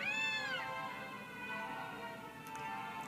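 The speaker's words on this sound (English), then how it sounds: "the cat isn't actually saying anything to her. It's really just meowing" A cat in the video game Gravity Rush gives one clear meow at the start, followed by a quiet stretch with faint ticking.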